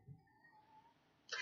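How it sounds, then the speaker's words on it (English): A house cat meows indoors, a faint drawn-out wavering cry followed by a brief louder sound at the end. "Damn cat keeps getting in my video."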